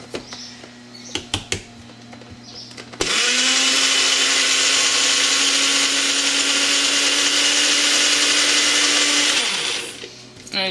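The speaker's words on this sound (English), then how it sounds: "And you just blend that until it's pureed." A bullet blender loudly purees leek and potato soup, running steadily for about six seconds after a brief quiet start, then cutting off.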